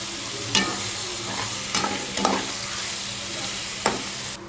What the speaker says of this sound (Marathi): सॉस टाकायचा, त्यानंतर शेजवान चटणी व्यवस्थित परतून घेते मी सगळं एकत्र.